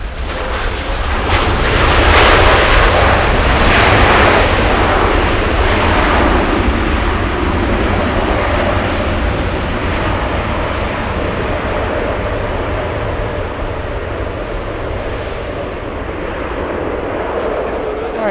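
A Delta heavy airliner takes off from runway 24 left at LAX. Its jet engines give a loud, broad roar that swells early, then holds steady and slowly eases off as the plane moves away.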